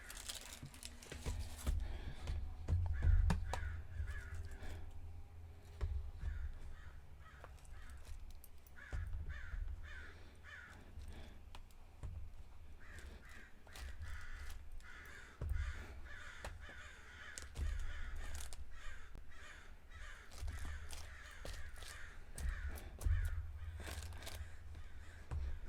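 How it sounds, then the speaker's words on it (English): Crows caw repeatedly outside an open window in rough, spaced calls, some nearer and some farther off, while faint clicks and taps sound close by indoors. "Hear the birds outside."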